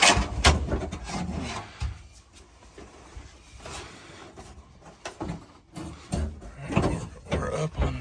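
Car seat being slid into a prefab seat mount in an LS-swapped 240 build, close scraping and rubbing with knocks and clunks, intermittent and uneven.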